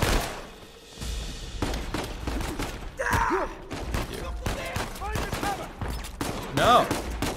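Bursts of blind-fire gunfire crackle in Uncharted 4, with rapid volleys and thuds mixed with in-game grunts and gasps, at moderate loudness.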